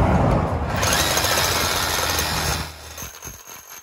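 A loud, continuous rapid hammering buzz of a Micro-Air Vibrasat Pro vibrating massage device striking wood, steady for a few seconds and then cutting out into scattered quieter knocks.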